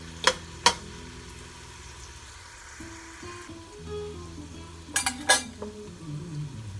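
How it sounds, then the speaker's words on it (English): Spoon stirring and scraping across the bottom of a paella pan with food sizzling, a couple of sharp clinks at the start and another cluster of clinks later over a steady low hum. "Scrape up whatever flavor is stuck to the bottom of the pan,"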